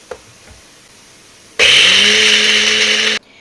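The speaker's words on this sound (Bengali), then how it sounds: "তো ডালটা আমি বেটে নিচ্ছি আগে।" A blender grinding soaked lentils into a coarse batter for fritters roars on abruptly after a quiet pause, running loud and steady for about a second and a half before cutting off.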